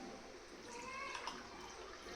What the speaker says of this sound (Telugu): ఇందులో వాటర్ పోసాను.